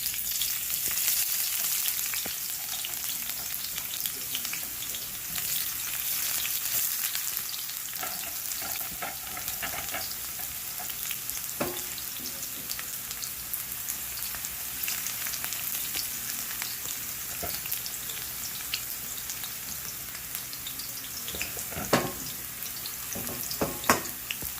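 Onions hit hot olive oil and sizzle loudly and continuously close by, a dense crackling hiss with occasional stirring clinks and light taps from the pan.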